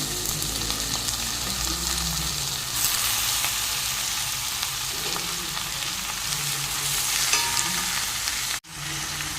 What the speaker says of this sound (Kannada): ಇನ್ನು ಚಿಕನನ್ನು ಹಾಕ್ತೇನೆ.